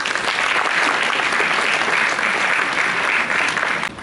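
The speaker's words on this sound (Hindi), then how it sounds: "जोरदार तालियां।" An audience at an award ceremony breaks into loud, sustained applause, dense clapping that holds steady before tapering off at the end.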